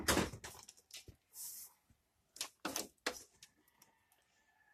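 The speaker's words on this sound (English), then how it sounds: "And we'll just open the door." An old, rust-damaged car door being opened at close range: several sharp clunks and metallic creaks come in uneven bursts, with a faint whine near the end.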